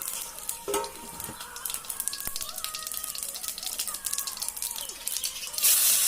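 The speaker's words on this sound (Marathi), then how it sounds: "आता तेल गरम झालं मोहरी टाकून घेते जिरे पण टाकले" Mustard seeds and cumin sizzle in hot oil for a village-style brinjal potato curry, a steady crackling fry with faint popping and a few light clinks of a spoon against the pan.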